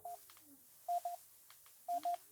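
Short electronic beeps from cheap wireless headphones in three bursts: a single tone, then two quick pairs separated by pauses, clear and isolated against a quiet background.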